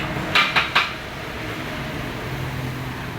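Ginger pounded for village-style special tea at a roadside tea shop in Pongalur, three quick sharp taps close together followed by steady background hum.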